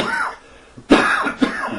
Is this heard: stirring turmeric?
no